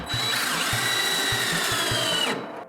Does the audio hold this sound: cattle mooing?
no